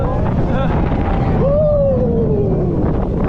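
Steady roaring wind buffets the microphone high up on an amusement park ride at Parc Astérix, broadband and loud throughout, with faint voices underneath.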